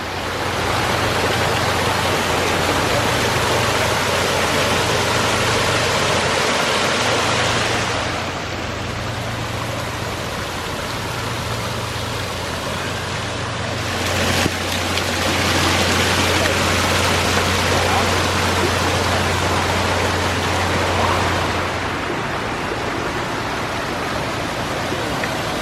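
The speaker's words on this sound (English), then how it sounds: "that's why we had built this waterfall on this side" A built garden waterfall next to a pond rushes steadily with a loud, broad splashing roar, a continuous hiss of falling water close by, with no pauses.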